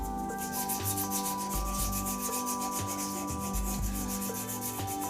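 Sanding a hybrid resin and wood shaving brush handle on a woodturning lathe, a steady close rubbing hiss with rhythmic strokes over a constant motor hum.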